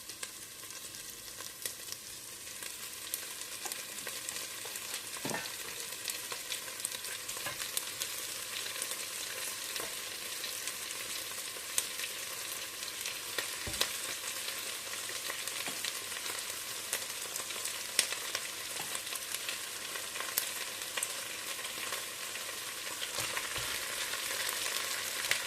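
Turkey meat fries with onion in a pan for a turkey osso buco, a dense continuous sizzle at close range with occasional soft clicks and scrapes and no talking.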